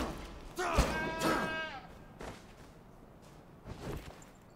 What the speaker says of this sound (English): Killed a sheep with a torch.